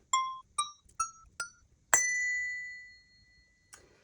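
A small metal Montessori bell is struck several times. Four short, damped tones are followed by one clear strike that rings out for about a second, then a final short tap.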